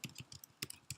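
Keys clack on a computer keyboard as a command is typed, a quick run of about eight close, distinct clicks in an uneven rhythm, heard alone without talk.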